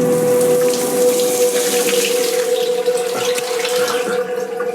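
Steady running water pours from a shower, a continuous close hiss and splatter with a faint tonal hum underneath, no voices.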